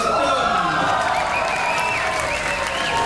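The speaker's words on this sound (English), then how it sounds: "Big applause for the team." An audience applauds for a team at a project presentation, steady dense clapping at full volume throughout, with a voice and some cheering mixed in.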